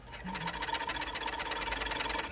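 A Pegasus W3664P-01G industrial sewing machine runs at high speed, giving a steady loud mechanical whir with a fast, even stitching chatter, close up and continuous throughout with no talking.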